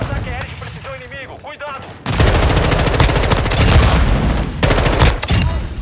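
Rapid bursts of automatic gunfire in Call of Duty Modern Warfare 2, loud and dense, following a stretch of quieter game sounds, with short gaps between volleys.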